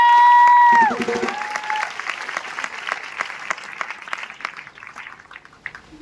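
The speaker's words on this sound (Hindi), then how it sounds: "एक बार ताली होनी चाहिए।" An audience bursts into applause at a motivational speech event, a sustained crowd clapping that gradually thins toward the end, following a brief electronic tone at the start.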